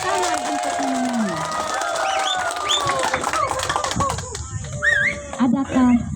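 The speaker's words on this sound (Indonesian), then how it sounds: "Tepuk tangan untuk Yani." At a school language-month opening event, an audience claps and cheers for a contestant, with scattered hand claps mixed with shrill whoops, whistles and excited shouting voices rising and falling.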